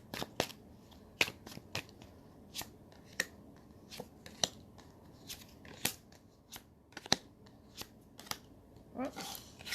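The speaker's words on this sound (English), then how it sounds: "We'll do one more shuffle here." Tarot cards being shuffled by hand, a series of sharp, crisp flicks and riffles in uneven bursts, close and fairly quiet.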